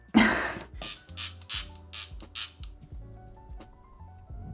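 A quick series of short hissing spritzes from a spray bottle misting a bread-proofing banneton, one strong burst followed by several lighter ones in a steady rhythm, close by.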